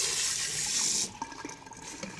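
A tap runs loudly as marinated pork is rinsed under it for about a second, then the water stops and a few light clinks and handling sounds follow, close by.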